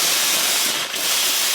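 A car-detailing steamer's hose sprayer blasts out a loud, steady hiss of steam and built-up water, with a brief dip midway before the spray surges on.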